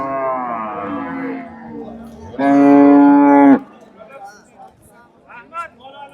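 A cow lets out a loud, sustained moo close by at a livestock market, preceded by people talking, with more murmured voices and livestock noise afterward.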